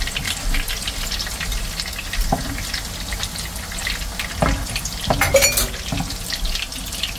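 Garlic fries to a reddish crisp in oil in a pan, giving a continuous close crackling sizzle with scattered pops and a few clinks of a utensil against the pan.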